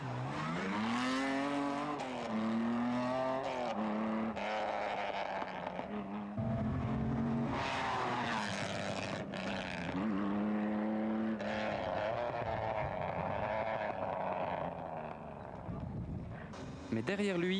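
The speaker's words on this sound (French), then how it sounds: "Il emballe les chevaux du moteur et fonce vers le jump de Skyforskappel." A historic rally car's engine revs hard and races off on a rally stage toward a jump, rising and falling engine notes heard under a narrator's voice throughout.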